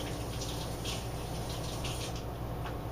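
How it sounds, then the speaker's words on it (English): Tap water runs steadily and fairly loud while hands are rinsed at a kitchen sink, a continuous close gush with no talking. "I'm going to quickly rinse my hands"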